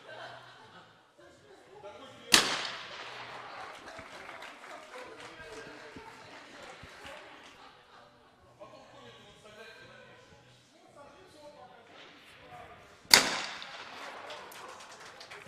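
Two sharp shotgun blasts ring out at an Olympic trap shooting final in Croatia, about ten seconds apart, each followed by a short decay, with a commentator speaking throughout and crowd murmur underneath.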